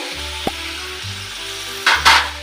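A spice paste of grated ginger, turmeric and red chili powder frying in a pan gives a steady sizzle with a low hum, then flares into a louder burst of hissing as water is poured in near the end.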